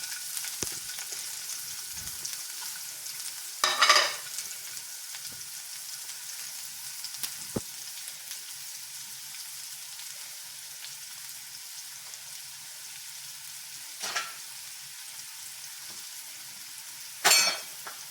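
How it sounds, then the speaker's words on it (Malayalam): Onions frying in hot oil in a heated pan give a steady faint sizzle, with a few brief louder bursts of crackle spaced apart across the stretch. "ഒരു ചൂടോട്ടിയുള്ള പാത്രത്തിൽ എണ്ണ ഒഴിച്ചിട്ട് സവോള അതിലേക്ക്"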